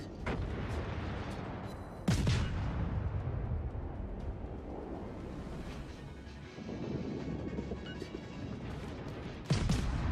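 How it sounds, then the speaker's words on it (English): Naval gunfire in the World of Warships game, with incoming shells from an enemy Leander cruiser: two loud, close booms, about eight seconds apart, over a constant rush of wind and sea. "Incoming fire from the Leander, that didn't miss by much"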